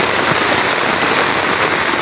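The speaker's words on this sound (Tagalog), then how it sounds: "Sobrang lakas ng ulan." Very heavy rain pours down in a dense, steady hiss with no break, loud and close throughout, drops drumming on surfaces all around with no voices.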